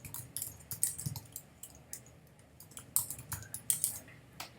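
Quick, light keystrokes on a computer keyboard tap out an irregular patter of clicks, close and fairly quiet, during data entry in accounting software.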